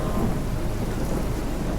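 Rain and a low rumble of thunder in the video game Life is Strange, a dense steady downpour with a deep continuous roll underneath, brief and without speech.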